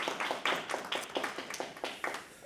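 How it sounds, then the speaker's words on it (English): Applause for supporters at a nonprofit community event: a thin, sparse round of clapping, a few distinct hand claps in a loose rhythm, fairly quiet and close, with no talking. "Round of applause for our supporters."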